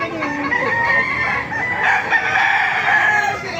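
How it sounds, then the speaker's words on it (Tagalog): Chickens and roosters, including golden-colored game fowl, crow and cluck at a farm in Baliwag, a dense overlapping chorus of calls that stays loud and continuous throughout. "Napakaraming manok kayo dito."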